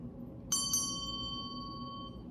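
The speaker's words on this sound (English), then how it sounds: "do you want to hear the bell?" A small hand bell struck twice in quick succession, each bright metallic ring sustaining and slowly fading over a faint steady background hum, with no one speaking.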